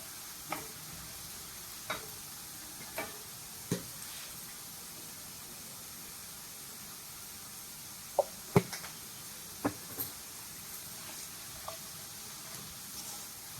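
Onions and turmeric sizzle faintly in hot frying oil, a soft steady hiss broken by a scatter of small sharp pops and ticks, some clustered in quick pairs.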